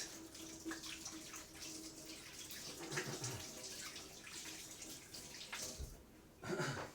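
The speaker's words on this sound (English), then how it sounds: "I'll rinse my hands off a second" Hands rinsed under a running kitchen tap while baking British rock cakes, a continuous soft splash of water into a sink with small shifts as the hands move, ending in a brief louder gush.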